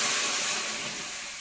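Water poured into a hot karai for vegetable dalia on a lit stove, a loud, steady sizzling hiss that slowly fades.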